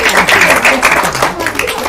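Applause from a gathering at a mosque, a short burst of dense clapping with voices mixed in, fairly loud and close.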